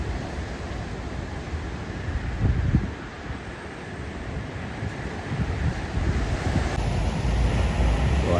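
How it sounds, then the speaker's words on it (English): Large surf at Sunset Beach on Oahu's North Shore rumbles in a steady wash of breaking waves with a swell of crashing noise, heard from the shore under heavy wind buffeting the microphone. "This wave is coming."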